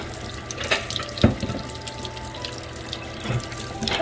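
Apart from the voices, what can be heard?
water running from a tap into a sink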